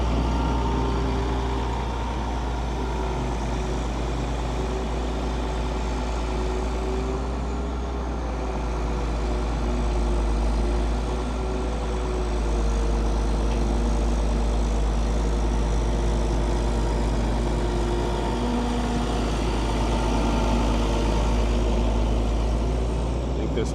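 A large poop-scooping truck, nearly full, runs steadily nearby with a deep, constant engine drone and faint tonal hum, sheltered from wind behind a wall, unbroken for the whole stretch.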